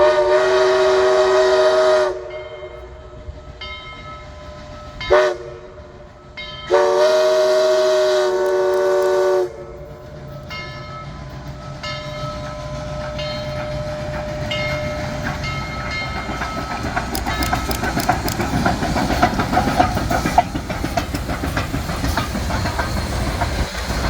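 Steam locomotive 4501 sounds its whistle in long loud blasts, then passes close by with a building rumble and rhythmic clatter of rail cars that grows louder toward the end.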